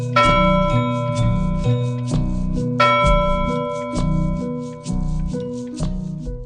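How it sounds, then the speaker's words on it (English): A big rusty bell hanging on a porch is rung again and again, loud clanging strikes about twice per second with overlapping ringing tones, heard alone. "the woodcutter rang the big rusty bell hanging on his porch"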